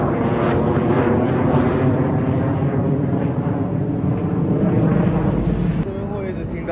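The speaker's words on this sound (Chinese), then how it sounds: "这边会一直听到战斗机起降" Fighter jets take off and land near a military airbase by a seaside town, giving a loud, sustained roaring engine drone that fills the whole stretch and fades slightly at the end. People talk over it.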